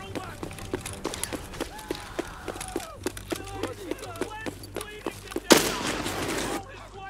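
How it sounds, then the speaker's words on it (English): A landmine blows up at an entrance in the shooter game Escape From Tarkov, one sudden loud blast with a roaring tail after a run of footsteps and sharp clicks. "we died to the landmines on the entrance"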